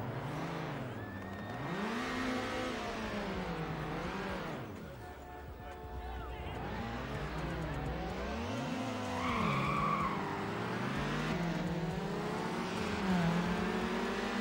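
Car engine in the video game Need for Speed Underground, revving up through gear shifts with tire skids and squeals, loud and continuous for the full length with rising and falling engine pitch.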